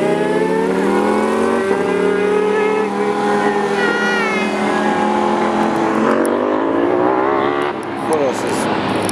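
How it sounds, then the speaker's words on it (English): A car at an Arizona car show does a burnout, its engine held at a loud, sustained high-revving roar close by. The pitch climbs and wavers for several seconds, then eases near the end. "Did a little bit of burnout."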